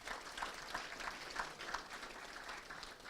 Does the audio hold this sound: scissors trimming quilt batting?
no